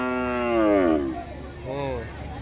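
Cattle moo at a busy livestock market held on the Chauddagram high school field, one long loud harmonic low followed by a shorter second call, with crowd murmur underneath.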